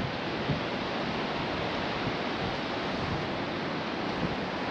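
Steady broadband wash of sea surf at Mandarmoni Beach, continuous and fairly loud with no distinct breaks, heard alone without any voices.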